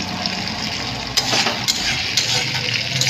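Onion and tomato fry in a pan, a steady close sizzle and crackle with a few brief louder spits and stirring noises.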